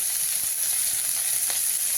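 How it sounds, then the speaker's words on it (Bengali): Fish fries in oil in a pan with chopped onion, a steady close sizzling hiss with only a faint crackle now and then, and no talk. "মাছ ভাজা কিন্তু চলছে আর মাছ ভাজা আলতো আলতো হয়ে এসছে"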